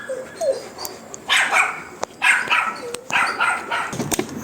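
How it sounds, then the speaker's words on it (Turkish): A wolfdog close by in a garden lets out several sharp barks and whimpering yelps in uneven bursts, with a few clicks between them. "Solda köpek sağda köpek."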